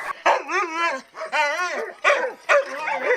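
Several huskies bark, yip and howl in quick, overlapping bursts close by, excited and loud with short pauses between calls.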